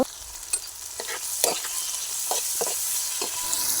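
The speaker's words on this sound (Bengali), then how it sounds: "এটাকে আমি ভালো করে নাড়াতে থাকবো ভাজা ভাজা করে নেওয়া পর্যন্ত অপেক্ষা করব" Tomato, onion and green chilli with salt and turmeric sizzle in a pan while a spoon stirs them, giving a steady frying hiss punctuated by several distinct scraping strokes, close and fairly loud with no talking.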